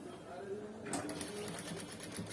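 A sewing machine runs steadily while stitching the collar of a men's shirt, a soft rapid whirr that picks up into faster stitching partway through, with quiet background talk.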